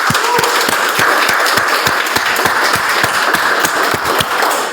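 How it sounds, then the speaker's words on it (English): A meeting audience at a Toastmasters club claps in a steady round of applause to welcome the Toastmaster of the day, with sharp individual claps standing out in an even, sustained patter throughout. "with a huge round of applause, let's all welcome Toastmaster of the day"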